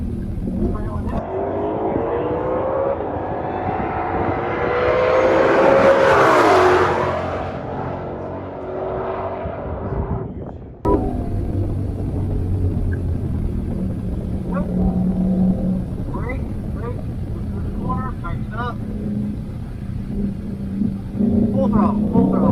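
A 2020 Shelby GT500 on a track is pushed to full throttle, its engine note climbing to a loud roar midway, then dropping and pulling again, with voices talking over it.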